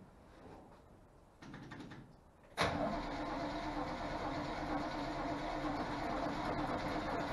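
A 1963 Corvette engine, sitting unused for 19 years, cranks with a rising whir, then fires at about two and a half seconds into a loud, rough, steady running roar heard up close without talk.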